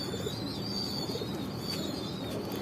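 Pigeon at a house cooing softly over a steady background hum, with faint chirps from other birds around it.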